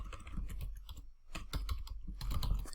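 Rapid clattering of computer keys being typed, continuous with short pauses, close and fairly quiet.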